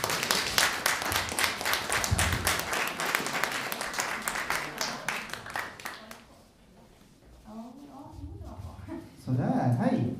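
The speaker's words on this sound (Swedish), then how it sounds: "Ge honom en varm applåd." An audience at the Wasa Brewery open stage gives a warm round of applause, with dense, loud clapping that fades out about halfway through, followed by people talking.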